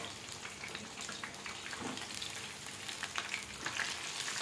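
Chicken kabab frying in oil on a medium-low flame gives a soft, steady sizzle with scattered light crackles, fairly faint and heard alone without talk.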